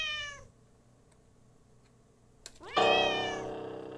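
Cat meowing in The Cat Lady video game, two distinct meows separated by a quiet stretch with a faint click, the second louder and longer, close and clear.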